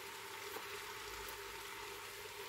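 Thin slices of an ingredient frying with onions in a pan for lasagne bolognese, a steady, dense sizzle that stays even and continuous throughout.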